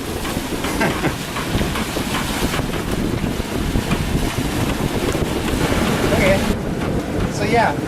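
Sailboat sailing in open water near a harbor, a constant heavy wind rush buffeting the microphone, with splashing water and hull noise underneath and occasional voices nearby.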